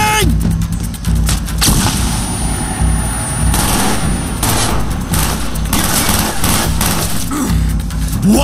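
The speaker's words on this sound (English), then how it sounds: "Flashbang!" In the shooter game Call of Duty Black Ops, set in a Kowloon City battle, a flashbang grenade goes off amid loud combat, with repeated sharp bangs and gunfire bursts over a constant roar of engines and rumble.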